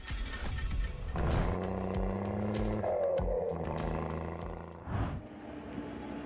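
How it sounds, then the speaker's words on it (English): An old American truck engine idles and revs with a deep, throbbing drone and a rising whine as it is unloaded, steady and fairly near before dipping briefly and picking back up. "What fascinating sounds this car makes"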